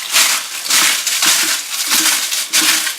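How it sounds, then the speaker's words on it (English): Dry eggshells being crushed by hand in a container, a close, loud crunching in several bursts with brief pauses between squeezes. "I'm going to crunch them up a little bit."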